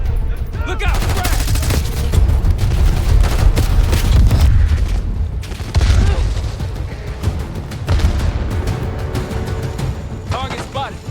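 Call of Duty Black Ops 6 combat with heavy gunfire volleys and booming grenade blasts, loud and continuous throughout, with voices calling out over the battle.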